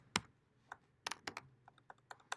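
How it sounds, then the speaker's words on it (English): Computer keyboard keys are tapped in irregular, quiet clicks, with a few sharper strikes spread across a couple of seconds and no voices. "I'm just going to pound on the keys"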